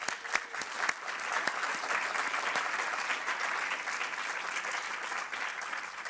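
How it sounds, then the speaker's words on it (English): Sustained applause from an audience at the close of a Yale evening speaker event, a dense, steady wash of many hands clapping throughout with no speech over it. "Let's give them a round of applause."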